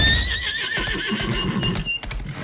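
A horse in the video game Lost Ark gives a loud, close whinny with a wavering, high-pitched cry, followed by a few soft hoof clops and rustles.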